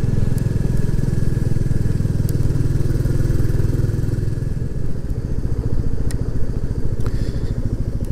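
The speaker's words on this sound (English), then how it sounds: "I just like listening to the sound of the engine." A Royal Enfield Classic 350 motorcycle engine thumps steadily while being ridden along Yorkshire country roads, a loud, continuous low chugging with faint wind and occasional light clicks.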